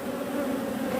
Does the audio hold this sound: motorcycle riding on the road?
no